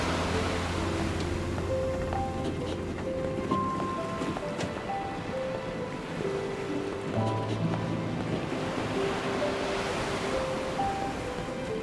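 Turbulent ocean waves beside a ship at sea in the video game Nier Reincarnation, a steady rushing surf wash over a soft musical score, continuous and moderately loud.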